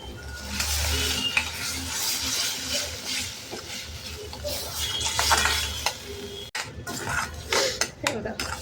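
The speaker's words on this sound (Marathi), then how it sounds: "दही पण आता छान परतून घेऊया" Yogurt is sautéed in a pan for a spicy corn kheema, with a spoon scraping and clinking against the pan over a soft sizzle, close and busy, pausing briefly.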